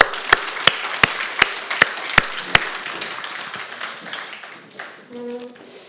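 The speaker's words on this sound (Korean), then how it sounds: "우리 다시 한번 하나님께 영광의 박수 올려드릴까요?" A congregation claps in unison at a Holy Week special worship service: seven sharp, evenly spaced claps, then a looser wash of applause that fades, with a brief voice at the end.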